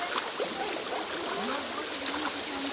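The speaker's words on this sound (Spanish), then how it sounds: "Miren el arroyo. El agua está fría, está fresca." A cold mountain stream flows in a steady, close broadband rush with light gurgles and trickles throughout.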